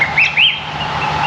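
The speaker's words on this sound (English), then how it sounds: "Yeah, a lot of bird life in and around." Birds chirp and whistle in bush near a river around Mataranka on the Savannah Way, two bright rising calls standing out early over a steady chorus of distant birdsong.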